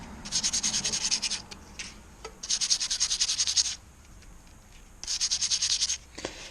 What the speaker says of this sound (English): after I sand it on the lathe in a traditional way, I usually sand along